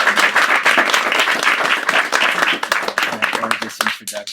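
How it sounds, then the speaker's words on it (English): Audience applause fills a packed room at a poetry reading, a dense, loud wash of many hands clapping that thins into scattered claps near the end, with voices mixed in. "One more round of applause for Jesse."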